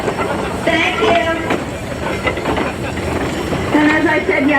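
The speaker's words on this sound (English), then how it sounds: "Here we have a Gar Scott 13 horsepower" A Gar Scott 13 horsepower steam traction engine rolls past at an antique tractor parade, with a low steady rumble and light hiss beneath someone talking.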